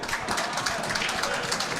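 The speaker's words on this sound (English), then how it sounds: "To rapturous applause from the local crowd enjoying that one" A local crowd applauds a shot at a match between Dom Coney and Rafiq Harmou in Morocco, producing a brief, steady wash of clapping at moderate loudness.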